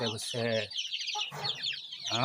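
Ayam Cemani and Silkie cross chickens cluck in short, close, tonal bursts separated by brief gaps, with a voice talking underneath.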